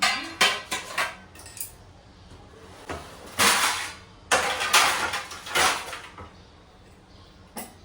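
Washed dishes, pots and steel utensils being put away in a home kitchen: repeated clattering metallic clinks and knocks in irregular bursts, close by, with quieter pauses between handfuls and no talk.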